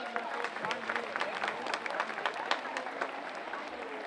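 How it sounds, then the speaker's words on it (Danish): Steady crowd applause at the Ladywalk 2012 women's walking event, a broad patter of many hands from a large outdoor gathering, with a few voices rising through it. "Skal vi ikke klappe af det?"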